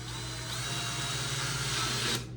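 A power drill bores slowly straight down through a plastic proton pack prop, giving a steady, close, continuous whirring whine that holds for about two seconds before cutting off.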